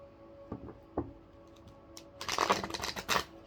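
Archetypes oracle card deck being handled and shuffled, a few soft taps, then a dense burst of riffling card flutter, close and fairly quiet in a still room.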